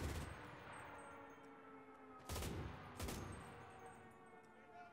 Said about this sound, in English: MG42, go burr.